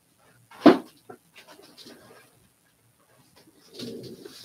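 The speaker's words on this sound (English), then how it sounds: "I think I heard a bird" A pet bird, likely a dove or pigeon, gives a short, fairly loud coo near the start, followed by softer scattered rustles and a faint low murmur toward the end, in a quiet indoor room.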